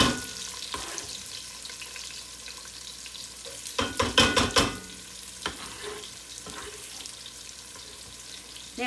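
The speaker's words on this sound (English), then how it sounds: "You want to hear that sizzle." Onions sizzle steadily in hot oil close by, with a burst of louder crackling and stirring partway through; no talking.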